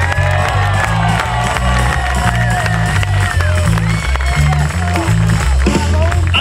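A large crowd at an outdoor blues festival cheers, whoops and applauds continuously over steady background band music, loud and close throughout.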